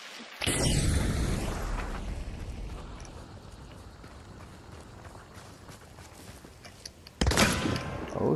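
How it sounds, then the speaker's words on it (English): Gunfire in the Hunt: Showdown video game, with a loud blast at the start followed by a long crackling, rumbling tail and then a second sharp, loud shot near the end. "they're shooting at me"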